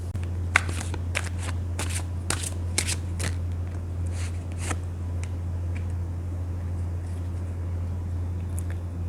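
Tarot cards are shuffled during a reading, a rapid series of crisp riffling flutters over a steady low electrical hum, close and with no talk.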